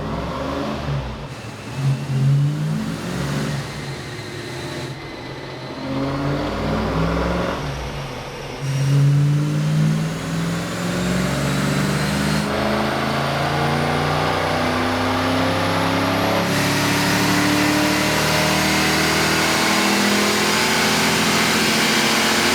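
A stock 1993 Fox Body Mustang GT with its high-output 5-liter engine revs on a dyno. The engine climbs loudly in rising sweeps, surging repeatedly and then holding a sustained wide-open pull to the end.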